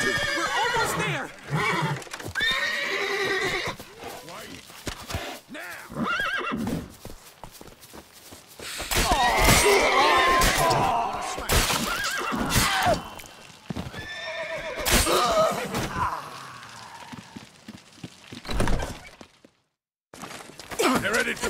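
Horses whinny and neigh repeatedly over clip-clopping hooves in a chaotic chase in The Witcher 3: Wild Hunt, with shouting voices and crashing sounds mixed in before a brief silence near the end.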